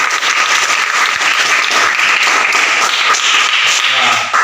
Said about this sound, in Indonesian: berikan aplaus lagi untuk kelompok